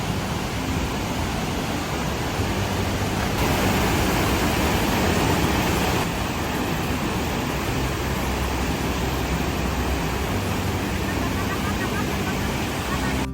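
Tännforsen, Sweden's largest waterfall, roars as a steady, loud broadband rush of falling water that stays close and constant throughout, with no voices over it.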